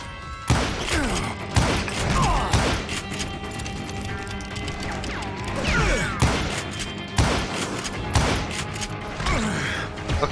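Repeated gunshots from a Western-themed shooter game, sharp cracks and thuds landing in irregular bursts through a dense, noisy firefight with mechanical clatter between shots.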